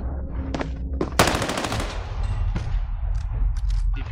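DP machine gun firing in the gulag of the Warzone video game, a loud rapid burst of shots at close range after a couple of single cracks, followed by lingering game noise.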